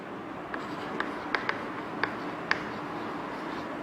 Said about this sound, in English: For this I'll write few sentences like Ali is